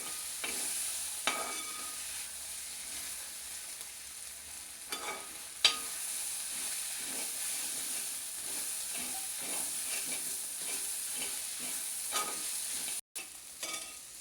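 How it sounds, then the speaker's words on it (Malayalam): Masala powders, chili and spice, being stirred into browned onions frying in a pan, with a steady sizzle and repeated scraping stir strokes throughout, close and continuous with no talk. "നല്ലപോലെ നമുക്ക് ഇളക്കി യോജിപ്പിക്കുക"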